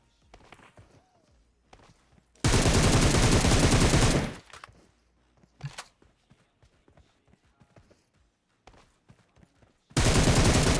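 Gunfire, including shotgun shots, in the PUBG Mobile video game on the Erangel or Livik map: two loud, dense bursts of shooting, one about two seconds long and one at the end, with quieter thuds and footsteps between them.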